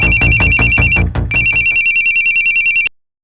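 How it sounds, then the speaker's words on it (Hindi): Loud electronic telephone ringtone pulsing rapidly in two bursts with a short gap, clear and alone, for an incoming call from a hospital. "हॉस्पिटल से फोन था सर"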